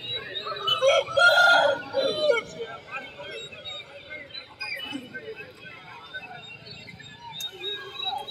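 Roosters crow and chickens cluck at a busy poultry market in Vadalur, loudest early on and then continuing amid a background of crowd babble and people talking.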